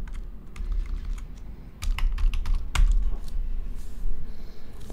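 Rapid keystrokes on a Mac computer keyboard entering a terminal command, close and fairly loud, in quick irregular bursts with a few sharper taps and brief pauses, no voice heard.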